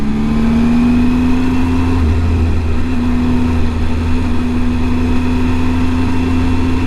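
A vehicle engine runs loud and close with a steady drone, its pitch dipping briefly around a gear change before settling back into a sustained note over constant road noise.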